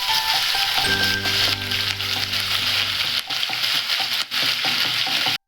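Ginger and garlic sizzle loudly in hot oil in a pan while a spoon stirs them, with scraping clicks over a steady hiss and a low steady hum running beneath for most of the stretch.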